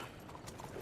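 Horse hooves clip-clop in the video game Red Dead Redemption 2, a faint, very brief run of steady steps.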